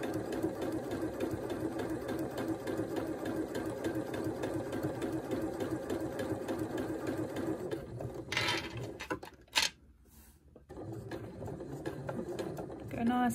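A domestic sewing machine stitching a Tilda snail softie runs in a steady, fast mechanical whir for most of the clip, pausing briefly near the end before starting again.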